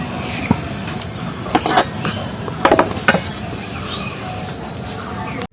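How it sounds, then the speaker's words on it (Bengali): Dishes clinking as food such as potato and ground drumstick leaves is served onto a plate in a home kitchen, with a few sharp metallic taps and clinks over a low background hum, close by. "আমি থালায় দিয়ে নিচ্ছি।"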